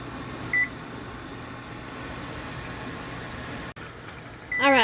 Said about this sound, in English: we got our buzzer going off.